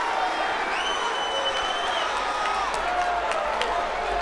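A boxing arena crowd at a professional women's fight roars with cheering, whistles and scattered clapping, a dense continuous wall of noise with occasional shouts rising above it.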